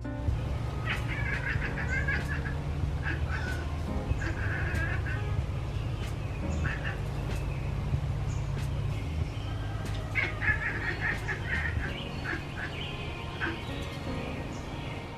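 A cat chitters at birds from a screened-in porch in short, rapid bursts of clicking chatter, coming in a few clusters over a low steady background rumble.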